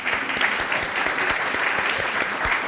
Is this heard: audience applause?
yes